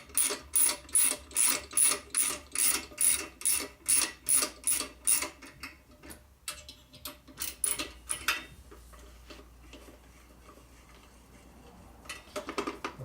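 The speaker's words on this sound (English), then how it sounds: "got my little ratchet here, my tool. See how much attention it takes to tighten these." Small hand ratchet tightening tapered screws on a 1958–1960 Harley-Davidson panhead cylinder head, a close run of about a dozen rapid, evenly spaced clicking strokes, then quieter handling and scraping.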